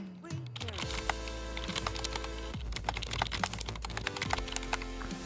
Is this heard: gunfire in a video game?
no